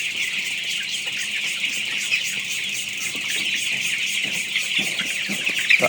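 Sonali Color Bat chickens clucking in a poultry shed, a dense, continuous chorus of close clucks and chirps from many birds with no talk.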